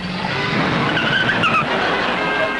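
A car's tires squeal in a loud, sustained skid with a wavering pitch, set against engine noise, as a sound effect in a radio comedy.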